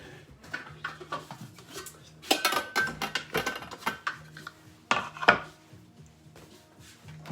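A clean bowl being taken out and handled in a kitchen, with scattered knocks, clinks and scrapes of crockery and utensils, louder in a few bursts and quieter between.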